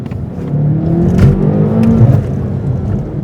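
BMW M8 Competition coupe driving through a tunnel in Comfort mode, its engine and exhaust a loud, steady, enclosed droning rumble with some rising revs, heard close from inside the car.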